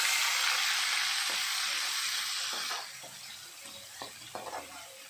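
Chillies go into hot oil in a pan with onions and paste for chilli chicken, giving a loud, steady sizzle that eases after a few seconds into quieter crackling with scattered pops.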